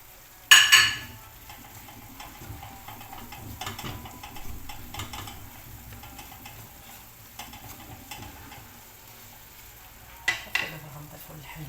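Garlic sizzles steadily in a frying pan for a Moroccan meat and quince dish, with sharp stirring and scraping bursts near the start and end and softer spoon ticks in between.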